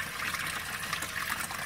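Water trickles steadily through the overflow of an aquaponic tank holding goldfish and tilapia, a continuous close, even dribble with no talking over it.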